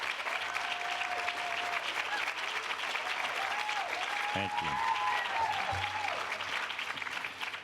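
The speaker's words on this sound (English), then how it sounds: "let's give them a round of applause." Steady applause from a conference audience fills the room, moderately distant, while a brief spoken thanks and a few voices come through over the clapping.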